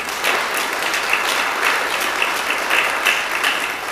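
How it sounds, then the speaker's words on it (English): A congregation at a church service applauds for good work, a dense, steady patter of many hands clapping at once, sustained and fairly close with no voices over it. "Let's give them a round of applause for their good work"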